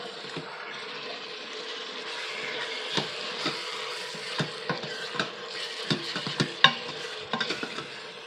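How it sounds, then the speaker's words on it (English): Ingredients for a red coconut curry chicken soup sauté in an Instant Pot on the sauté setting while being stirred, a soft sizzle broken by repeated scraping taps of a spoon against the metal pot, close and moderate. "I just like to mix this around really good because I want all the flavors to incorporate."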